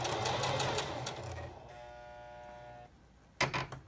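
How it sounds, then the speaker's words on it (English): A household sewing machine runs in a fast rhythmic stitching burst, slows and stops, leaving a faint hum, then starts again briefly at the end. "Okay, now sew and see what it does."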